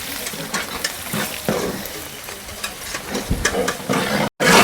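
A large pan of potatoes, about 1.5 kg, fries for aloo matar gravy with a busy, crackling sizzle, while a utensil scrapes and knocks in uneven bursts.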